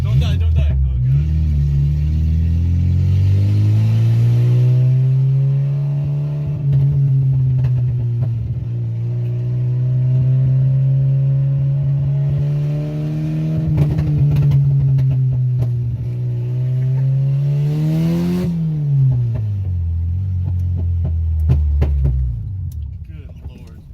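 An old car engine sputters to life on starter fluid, then revs and holds a loud, rough, wavering idle for about twenty seconds, pitch rising and dipping with the throttle before dropping off at the end; someone talks over it.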